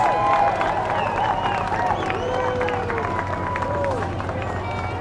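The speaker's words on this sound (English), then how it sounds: "let's hear a big round of applause for those veterans" A parade crowd in Estes Park, Colorado, claps and cheers for passing veterans, with whoops and chatter mixed into the applause and voices talking over it.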